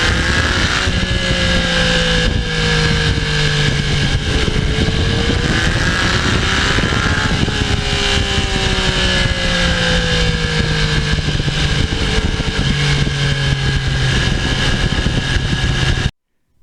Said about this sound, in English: I really do enjoy every minute out on the road on this bike.